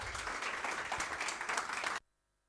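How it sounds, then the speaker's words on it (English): An audience at an open session on civil services interview preparation applauds a speaker with brisk, fairly close clapping for about two seconds before it cuts off abruptly to silence. "let's have a huge round of applause for Patnaik sir."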